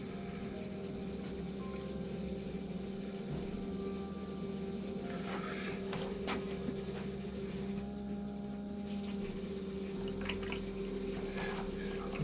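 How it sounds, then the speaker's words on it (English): Hydronic underfloor heating pump in a VW Crafter camper van conversion, with a steady whirring hum and water and trapped air gurgling through it, continuous and close. "Still sounds like there's a bit of air in the pump though."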